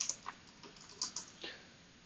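Keys on a computer keyboard tap out a short terminal command, a handful of quick, close, fairly soft clicks in an uneven burst with brief pauses between them.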